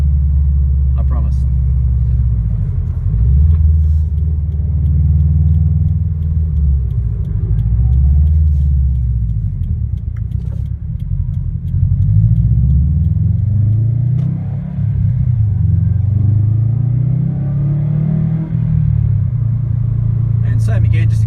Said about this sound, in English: just accelerating up to third gear, 65 kilometers an hour is what it touched on